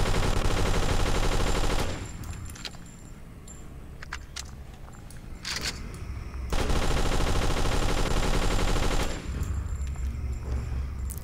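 Heavy automatic gunfire from shooting zombies in the Flash video game Zombiewarz: loud, dense bursts roar for about two seconds, drop to quieter scattered shots, then return as sustained rapid fire.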